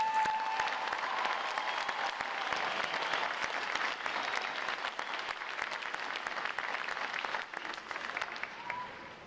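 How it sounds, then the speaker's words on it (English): Crowd at a U.S. Navy boot camp graduation applauds sailors' families and friends, a steady, moderately distant roll of many hands clapping with crisp individual claps scattered through it. "Ladies and gentlemen, a round of applause for our family and friends."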